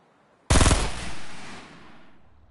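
Video-game gunfire: a sharp, loud automatic burst of rapid shots starting abruptly, then a long echoing decay fading over about two seconds, with no talking.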